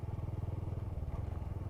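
A Honda Super Cub 125 motorcycle engine putters steadily while riding, a close, low, rhythmic thrumming pulse that carries on evenly without speech.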